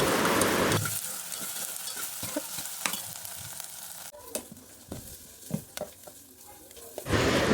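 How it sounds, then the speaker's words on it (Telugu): Dosa batter with salt being stirred by hand in a bowl, a steady wet churning and squelching that runs close and continuous for several seconds with no talk over it. "దోసపిండి అయితే మొత్తం ఉప్పు వేసి అటు ఇటు కలిదిప్పేసుకుంటున్నాను"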